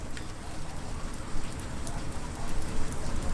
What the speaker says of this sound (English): it's raining like shit